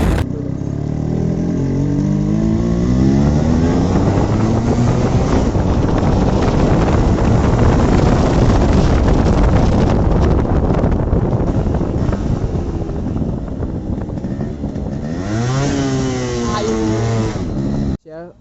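A fully modified Yamaha RX 100 two-stroke motorcycle engine revs loudly and steadily up close while riding, its harmonic whine rising and falling, with heavy wind buffeting throughout and a shift near the end.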